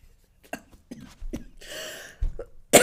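A few sharp coughs and throat-clearing sounds close by after smoking from a bong, with a brief breathy exhale between them.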